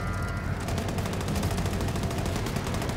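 Rapid automatic gunfire in the shooter game Wolfenstein 2: The New Colossus, a loud, dense stream of fast repeating shots rattling without pause for a few seconds.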